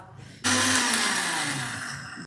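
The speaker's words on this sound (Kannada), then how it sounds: "ಮಿಕ್ಸಿಗೆ ಹಾಕೊಂಡಿದ್ದೀನಿ" After a short quiet moment, a mixer grinder suddenly whirs to life grinding biryani masala with green chillies, running loud and steady with a high motor whine.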